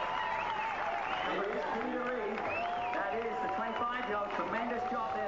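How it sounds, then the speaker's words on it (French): Spectators applauding along an Ironman triathlon course in Penticton, Canada, as a competitor passes, steady clapping under a continuous French commentator's voice, with a muffled, band-limited broadcast quality. "Et s'il est applaudi, Peter Reid, c'est que c'est l'une des chances canadiennes pour cette épreuve."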